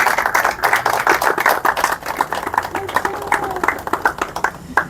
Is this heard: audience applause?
yes